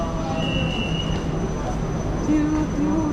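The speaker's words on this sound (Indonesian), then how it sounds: "Ini adalah MRT Sungai Buloh Kajang" An MRT metro train on the Sungai Buloh–Kajang line in the Damansara area of Malaysia, a loud steady rumble of wheels on rail with high squealing tones riding over it, continuous and close, with some voices under the noise.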